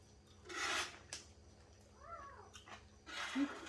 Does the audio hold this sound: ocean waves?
no